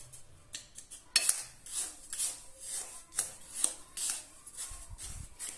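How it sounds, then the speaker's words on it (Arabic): Dry dough ingredients for Algerian mkhiret, flour with sugar, being stirred in a bowl, giving repeated scraping and rubbing strokes with light clinks, close and steady, with no talking. "نخلط كامل هذه المكونات الجافة"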